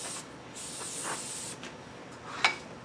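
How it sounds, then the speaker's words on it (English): Cooking spray hitting a hamburger patty: short hissing bursts of aerosol, a couple of brief sprays close by, with a small clunk near the end. "we're going to just kind of lightly hit it with some cooking spray"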